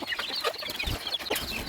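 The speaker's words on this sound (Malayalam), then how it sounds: "അവർ ഏകദേശം കോഴികളൊക്കെ ഇറങ്ങി വരുന്നേ ഉള്ളൂ കേട്ടോ" Chickens cluck softly as they come out into a backyard poultry run, with scattered low calls spread over a steady background hiss.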